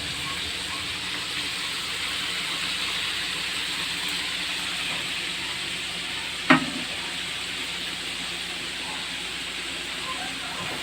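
Crispy chicken frying in oil over a wood fire, a steady broadband sizzle and hiss throughout with one sharp pop or crackle partway through, no voices.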